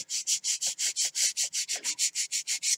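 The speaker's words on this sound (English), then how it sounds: "I got a little bit here that I want to sand off." Hand sanding of an Apogee Aspire model rocket build being prepped for primer, with about sixteen rapid, even back-and-forth strokes that rasp loudly and close, and no speech.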